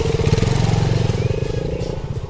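A KTM Duke motorcycle rides off-road on a rough track toward the mountains in Assam, its engine droning steadily and close with a pulsing, uneven rumble and some clatter throughout.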